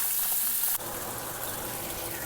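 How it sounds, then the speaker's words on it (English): Hot water running from a kitchen tap while tongs are washed under it, a steady close splashing rush that shifts in tone partway through as the tongs move in the stream. "So I was just washing off these tongs in some hot soapy water with Dawn."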